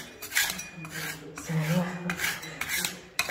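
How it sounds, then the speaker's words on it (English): Disintegrated carpet backing scraped off the floor of a 1950s bungalow: irregular rasping and scratching strokes in bursts, fairly close, with a few metallic clinks between them and no talk. "now I'm having to scrape it all off"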